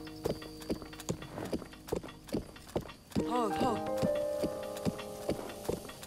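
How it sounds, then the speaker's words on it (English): Horse hooves clip-clop at a steady gallop in Zelda: Breath of the Wild, evenly spaced thuds running throughout, joined midway by a bright layered musical chime and soft background tones. "if you don't move the controls, your horse will automatically follow the path"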